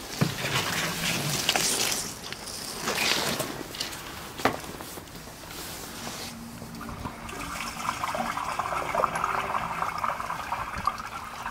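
A toilet flushing into a blocked drain during drain jetting and unblocking, with rushing, gurgling water filling most of the stretch at moderate loudness and no talk over it.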